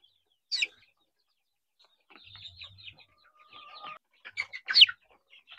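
Fairly large chickens cluck and chirp in short, scattered bursts, close by and moderately loud, with quiet gaps between calls and no talking.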